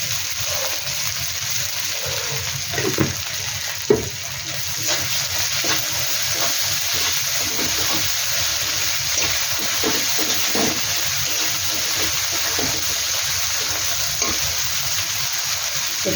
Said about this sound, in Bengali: হালকা হালকা মশলাটা কষতে হবে।